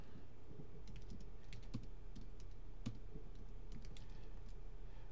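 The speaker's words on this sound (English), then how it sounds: "I am typing faster than I can think right now." Fast typing on a computer keyboard, with irregular clusters of crisp key clicks heard up close over a steady low hum and no voices.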